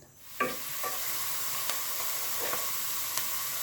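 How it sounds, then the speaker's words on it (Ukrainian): Diced onion frying in a pan, with a steady sizzle and a few soft clinks and scrapes as it is stirred, close by and with no voices. "тушимо цибулю до ледь-ледь золотистого кольору"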